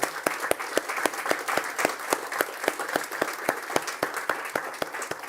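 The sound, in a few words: applause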